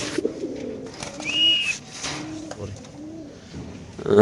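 A male pigeon in a cage coos in soft, low rolling phrases, close by, with a faint background hum and a brief louder rustle at the end.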